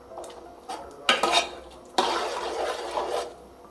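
A spoon stirs chicken curry seasoned with pepper powder in a pan. It makes a few scraping, clattering bursts with brief pauses between them, and a light sizzle sits underneath.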